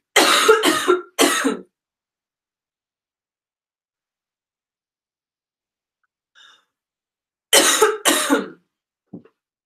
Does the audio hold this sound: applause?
no